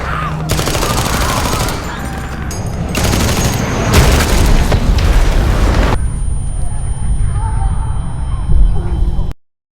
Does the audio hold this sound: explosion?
yes